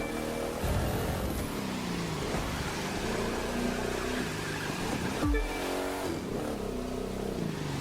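A car in The Crew 2 racing game accelerates hard. The engine note rises through repeated revving sweeps and gear changes, with one sharp shift about two thirds of the way through, over steady rushing road noise.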